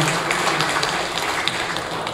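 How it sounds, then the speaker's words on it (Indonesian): Audience applause at a church community gathering, a dense, steady wash of many hands clapping close by throughout, with no voices standing out. "kita tepuk tangan untuk beliau"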